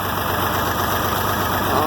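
A 706 tractor with a D436 engine idles while warming up after its first start in months, a loud, steady rumbling drone with no change in pace, close and filling the whole stretch.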